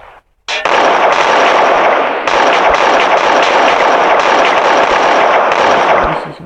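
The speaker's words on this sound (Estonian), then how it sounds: "Asi siin plahvatab ka." A loud explosion in the Free Fire shooting game, a sharp onset followed by a sustained, roaring crackle of blast noise that fills several seconds at close range.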